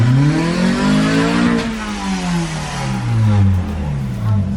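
A smoky, poorly running cheap Mazda Miata revs hard and loud, its engine note climbing and falling in several sweeping pulls close by, with a voice briefly heard over it.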